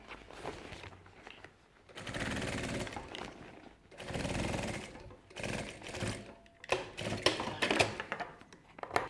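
A sewing machine topstitches around the opening of a fabric backpack in several close, steady bursts separated by short pauses, with some handling clatter between runs.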